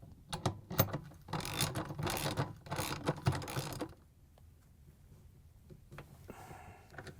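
A 17mm socket ratchet clicks in rapid bursts while tightening the rotor nut on a Samsung washer drive motor, loud and close for about four seconds, then quiet with a faint rattle near the end.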